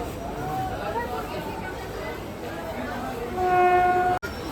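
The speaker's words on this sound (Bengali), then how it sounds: "ট্রেন আসছে, ট্রেন আসছে।" A train pulling in at a crowded station platform, its horn sounding as a steady sustained tone near the end over constant rumble and murmuring crowd noise, with people talking throughout.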